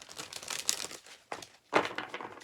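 Cards in an oracle deck crinkle and rustle as one is drawn, two distinct bursts of papery handling close up with brief quiet between them.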